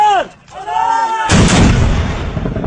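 A Pakistan Army artillery gun fires one heavy, booming shot up close, the blast rolling on after a short spoken command.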